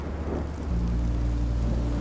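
Rain falling with a low thunder rumble in the Minecraft: Story Mode video game, a steady wash of rain and a deep sustained rumble swelling after the start, with no voices.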